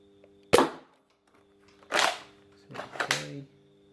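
Three sharp Nerf DL44 blaster shots firing Star Wars darts, each a sudden snap with a short whooshing tail, spaced about a second and a half apart, close and fairly loud.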